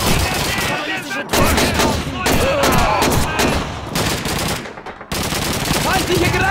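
Dense machine gun fire and scattered rifle shots fill the fight at a rail station in Call of Duty 2, loud and continuous with brief pauses, while soldiers shout over the barrage.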